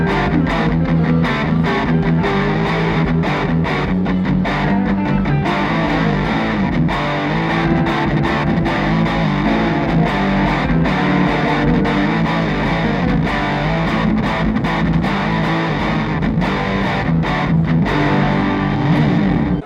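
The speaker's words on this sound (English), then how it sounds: "you get that kind of curved and compressive sound of a valve going into distortion" An electric guitar played through a valve amp driven into preamp distortion, a thick, compressed, continuous crunchy tone with rhythmic picked chords, loud and close throughout.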